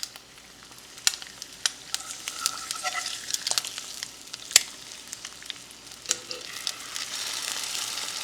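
Eggs fry in a buttered pan with a steady soft sizzle, punctuated by scattered clicks and scrapes of a spatula as they are flipped, close and fairly quiet.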